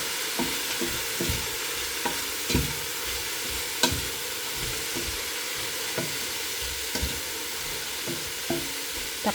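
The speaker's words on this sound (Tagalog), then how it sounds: "Haluin natin." Food being stirred in a hot pan, with a steady sizzling hiss throughout and irregular scraping clicks of the spoon against the pan at a moderate distance, no voices.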